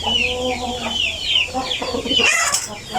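Chickens cluck in a rapid, overlapping chatter on a Thai poultry farm where roosters and hens are penned, with sharp calls near and close, continuous for a few seconds and rising into a louder, shrill burst near the end.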